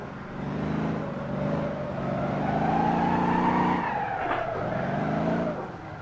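Turbocharged Kombi van engine in Motor Town, loud and close, revving up in repeated surges with quick drops at each shift, ending in a long rising whine.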